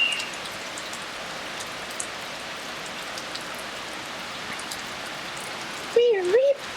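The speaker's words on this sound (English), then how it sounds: "This rain's very heavy." Heavy rain pours down steadily outdoors near a bird's nest, a dense, unbroken hiss of drops on surfaces throughout, with a short voice or call rising briefly near the end.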